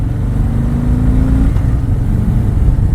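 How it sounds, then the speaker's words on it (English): A 2018 Harley-Davidson Sport Glide with a 107 cubic inch Milwaukee-Eight engine rumbles steadily and loudly close by, a deep continuous throb with a faint rising tone partway through. "this one has the 107 cubic inch Milwaukee 8 engine."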